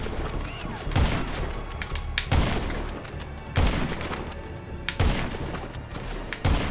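Sniper rifle shots in GTA 5 with normal rounds and a normal scope, five heavy booming blasts spaced about a second or more apart, each with a rolling tail over a constant background.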